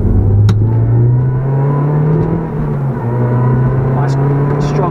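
A Toyota GR Yaris GRMN Gazoo Racing engine hums at a steady low pitch as the car pulls away under acceleration, with a brief dip midway before the exhaust drone resumes, close and loud throughout.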